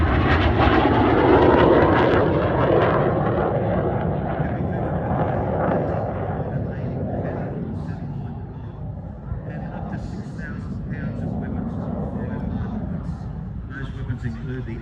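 Jet aircraft powered by a Rolls-Royce Turbomeca turbofan at an air show, a loud sustained engine roar that slowly shifts in tone as the plane passes, with a commentator talking over it.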